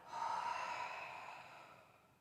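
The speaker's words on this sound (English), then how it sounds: "breathing out through the mouth" A single long, soft exhale through the mouth during a calm yoga practice, close and gentle, fading out over about two seconds with no speech.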